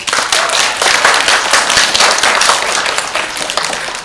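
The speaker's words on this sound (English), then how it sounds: "Everybody give me a round of applause." An audience gives a short burst of applause, many hands clapping densely and loudly at close range for a few seconds before tapering slightly.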